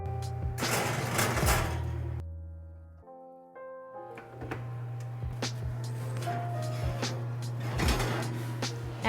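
A home kitchen oven door opens and shuts with metallic clunks and rattles as a baking dish of shrimp, tomato and feta goes in at 450 degrees, with a steady hum of the oven or fan beneath.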